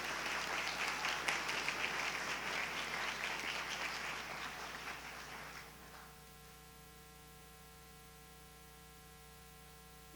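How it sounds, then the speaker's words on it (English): Audience applause at a history day awards ceremony rises loud and sustained for about five seconds, then stops abruptly and leaves a quiet room hum. "Round of applause for all of you."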